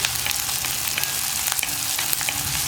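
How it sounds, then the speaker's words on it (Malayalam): Onions fry in a pan while being stirred, a dense continuous sizzle close by with light scraping and crackle throughout, no voices. "അപ്പോൾ ഉള്ളി ഒന്ന് കുക്കായി വരുന്നത് വരെ ഞാൻ ഇളക്കി കൊടുത്തുകൊണ്ടേ ഇരിക്കട്ടെ"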